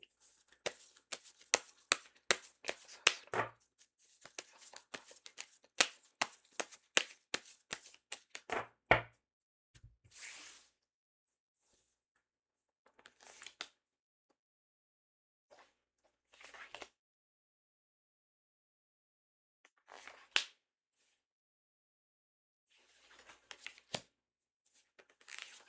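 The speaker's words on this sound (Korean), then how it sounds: "3번 카드 여러분들에게 생길 경사는 어떤 경사스러운 일일지 한번 카드를 뽑아보도록 할게요" Tarot cards are shuffled in a rapid, dense run of soft riffling snaps for several seconds, followed by sparse, quiet single card slides and taps as cards are drawn.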